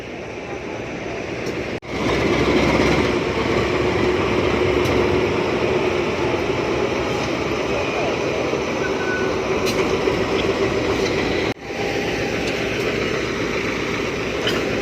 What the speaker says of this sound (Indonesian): Ini kereta api Ranggajati persiapan masuk jalur 1 stasiun Kertosono